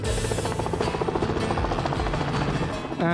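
A helicopter thumps loudly overhead, rotor beats chopping rapidly and steadily, close and dominant throughout.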